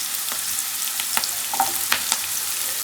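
Onion, ginger and garlic frying in a pan with cinnamon, cloves and black pepper, giving a steady soft sizzle with a few brief stirring scrapes, close by and with no voices.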